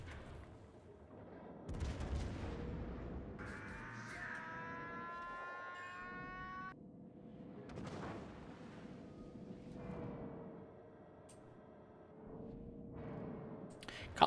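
Battleship guns in a naval video game fire high-explosive shells, with several deep booming blasts and rumbling impacts spread across the stretch, layered under engine drone and tonal game alerts.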